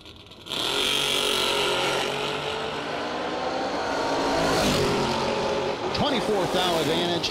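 Drag racing cars, among them a 1968 Camaro, roar hard off the line at a drag strip, a loud sustained engine blast with a sharp rise partway through and a pass-by sweep near the end.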